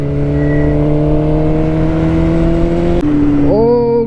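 A Suzuki GSX-R 600 motorcycle engine holds a loud, steady high rev near the listener, then drops briefly and climbs again in a quick rising rev at the end.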